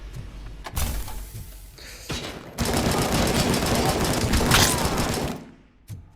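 Turret in Robocop Rogue City firing: a sharp burst near the start, then a sustained, loud rattling barrage lasting nearly three seconds before cutting off, with a final short hit at the end.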